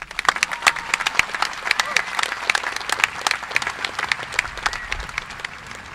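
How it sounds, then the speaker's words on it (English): A high school graduation audience claps for the principal, sharp individual claps standing out over a lively, crowded roar, with cheering voices mixed in throughout. "Please give him a round of applause."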